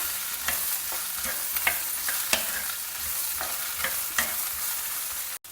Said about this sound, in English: add in your washed and chopped Bhindi to it. Stir it all well together.